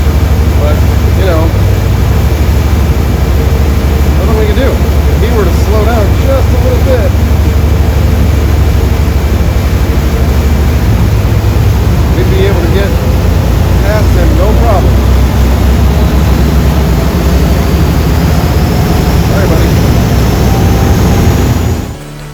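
A cruising boat's engine runs loud and steady at speed, the hull pushing through a large wake on the Great Loop waterway, with a constant low drone and wash filling the whole stretch.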